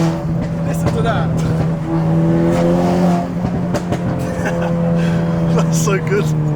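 A 250bhp Renault Clio RS engine revs hard and holds a high, rising drone, with short bursts and clicks over it, loud and close.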